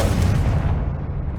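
Confringo fire spell from Hogwarts Legacy, a single loud blast with a rumbling low-heavy burst that fades away over about a second.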